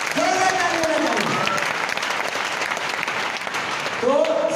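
An audience applauds loudly and steadily at a public gathering, with a voice speaking over the clapping at the start and again at the end.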